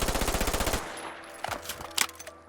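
Submachine gun reload from a Fallout 4 weapon mod: a rapid burst of automatic fire is followed by a series of sharp metallic clicks and clacks as the magazine is swapped, close and fairly loud, with no talk.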